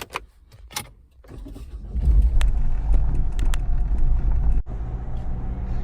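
A car pulls away and drives on, its steady low engine and road rumble building after a few sharp clicks and rattles, then holding level and close with a brief drop near the end.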